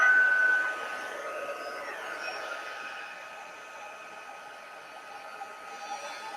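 Heat tool blowing hot air onto the back of cardstock to dry it, a steady whooshing whine of airflow that holds throughout with no talk.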